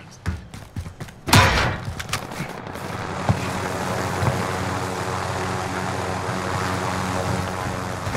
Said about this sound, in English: This helicopter seems to come back.